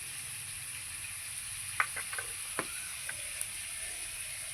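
Ginger and garlic paste sizzles in a frying pan with chili powder and spice paste for goat meat curry, a steady close hiss with a few sharp ticks and pops from stirring.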